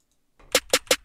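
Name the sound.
trap beat snare roll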